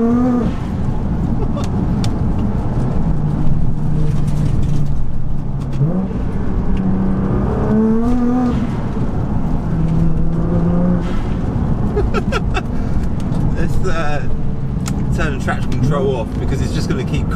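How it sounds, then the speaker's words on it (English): A Nissan GTR drives along a wet road, with a continuous engine hum and road noise throughout as someone talks over it. "today's idea was, I want to film the drive to work in my Nissan GTR."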